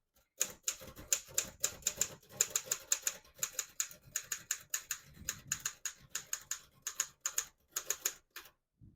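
A 1948 Royal KMM portable typewriter types out a sentence in sharp, crisp keystrokes. The strikes come in quick bursts with short pauses between them, heard close up and alone.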